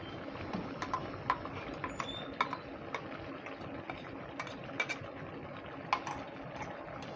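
A spoon stirs ground spice paste and onion paste in a pan for chicken curry, scraping and clinking against the metal in scattered taps over a low steady cooking hiss, no voices.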